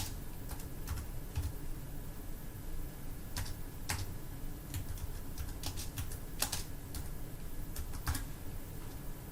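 Sharp mouse clicks on a computer while adding value labels in SPSS statistics software, a scattered series of separate ticks over steady low room hum, with no talking.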